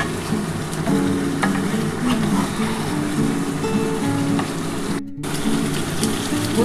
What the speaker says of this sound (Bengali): দেখো চিকেনটা কিন্তু আমি তেলটার মধ্যে দিয়ে দিয়েছি